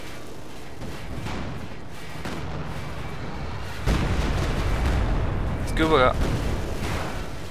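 Railway artillery gun firing in Company of Heroes 2, deep booming blasts and rumbling impacts rolling under ongoing talk, with a sharper crackling burst near the end.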